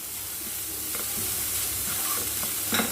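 Chopped beetroot sautés in a pan for a beetroot pachadi, a soft continuous sizzle with a few light stirring scrapes, close and steady with no talking.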